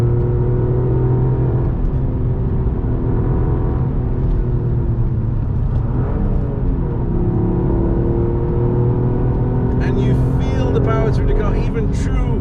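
Toyota GR Yaris three-cylinder engine works hard on a wet track, a loud raspy drone rising and falling through bends, with a voice talking over it toward the end.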